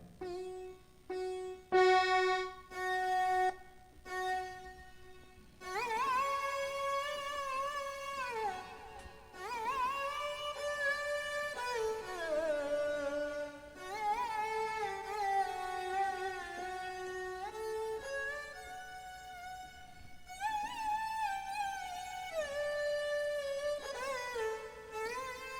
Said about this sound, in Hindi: ये सरोद की आवाज है।